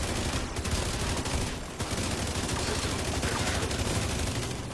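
Dense, continuous gunfire rattles through a video game boss fight against Buddy and Lucy in a Dark Hours raid, loud rapid shots blending into a constant barrage.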